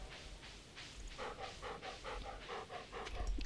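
Rhythmic, breathy panting from a dog in the Stardew Valley farming game, a steady run of quick huffs at moderate level with no talk over it.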